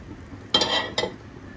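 Paneer for paneer modak is stirred in a pan over low gas, two short scraping strokes close by in an otherwise quiet kitchen.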